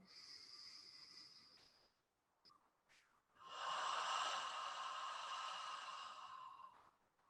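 Slow breathwork exhales through an open mouth, breathy and soft, in a long airy release after a brief earlier breath, close and quiet with no talking.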